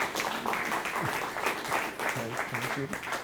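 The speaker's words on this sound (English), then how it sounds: "So let's give him a round of applause," An audience applauds a lecturer at an emeritus academy chemistry lecture, a steady continuous wash of clapping throughout, with some voices and murmuring mixed in.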